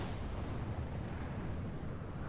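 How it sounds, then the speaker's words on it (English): A rocket lifts off in a space-flight simulation game, a steady, deep roaring rumble that stays constant and fills the whole moment with no voices. "And we have liftoff."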